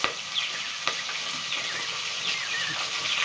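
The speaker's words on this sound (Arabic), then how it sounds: "عندي زيت اتقدح. انا كده هنزل باللحمه بتاعتي" Meat going into smoking-hot oil gives a loud, dense, sustained sizzle, with a few sharp crackles and small knocks on top and no talk.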